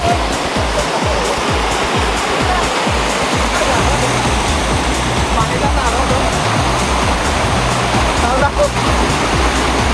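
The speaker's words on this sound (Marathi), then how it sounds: "छोटे मोठे काय होईना पण आनंद देण्यासारखे धबधबे आहेत" Ghogata waterfall at Gunj, a loud, close, unbroken roar of rushing, falling water, with a few low thumps early on and no clear speech.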